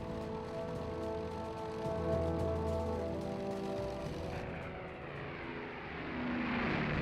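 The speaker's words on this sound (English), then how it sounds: "The first of these was the Short Stirling." A Short Stirling four-engine bomber drones with a steady, moderately loud propeller engine hum that fades into rushing noise near the end.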